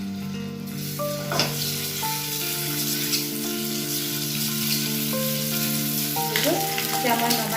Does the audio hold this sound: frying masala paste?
yes